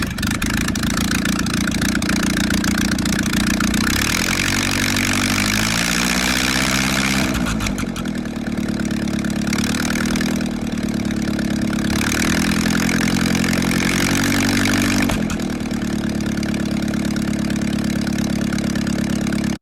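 The engine of a 1965 Navy Jeep CJ5 runs loud and close, idling with a rough drone that revs up and falls back several times.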